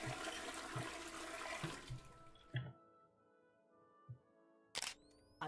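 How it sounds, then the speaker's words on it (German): Toilet flush in a space-station video game: a loud rushing broadband burst of water lasting a couple of seconds, followed by quieter tonal hum, a few soft thumps and a sharp click near the end. "wieso spült die Toilette, wenn ich von außen einen Knopf drücke?"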